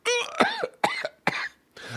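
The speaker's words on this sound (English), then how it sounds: "The cough was real." Several harsh coughs in quick succession, close and loud, with short gaps between bursts and no other sound around them.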